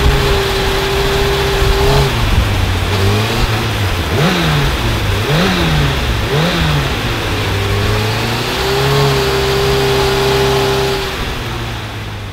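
A motorcycle engine runs steadily on a dyno for the whole stretch, a loud constant drone whose pitch dips and rises through several blips of the throttle before settling back to a steady tone.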